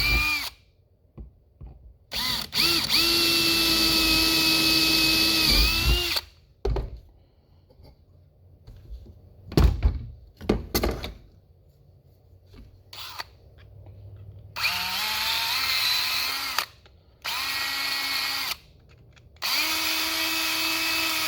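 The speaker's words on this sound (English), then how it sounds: "I'll go ahead and drill these out" A power drill bores out rivets on the metal frame of a pop-up canopy, giving repeated whining bursts of a few seconds each with short pauses and clunks between them, close and fairly loud with no talk.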